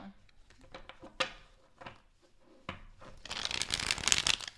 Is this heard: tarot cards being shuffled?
yes